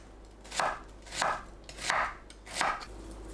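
A knife slices a halved onion into half-centimetre slices on a cutting board, four distinct crisp cuts landing at a steady, even rhythm, close and clear with no talking.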